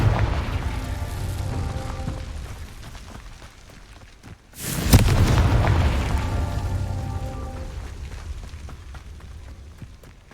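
A Confringo blasting spell explodes in Hogwarts Legacy, a loud sudden boom at mid-clip over rumbling game ambience, followed by a crackling, rain-like debris tail that slowly fades.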